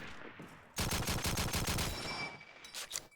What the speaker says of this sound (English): Put some bullets down there as pressure, but finds no one